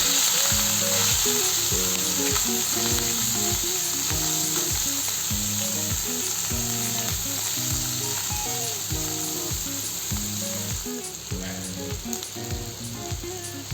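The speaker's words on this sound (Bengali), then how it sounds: "প্রথমে আমি মাছগুলোকে ভালো করে ভেজে নেব।" Steady, loud sizzling of fish frying in oil over low heat, a continuous crackling hiss with no voices over it.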